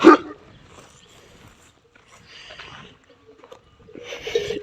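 Farm dogs bark and yelp in short, scattered bursts, with quieter stretches between; the calls sound moderately close over faint background noise.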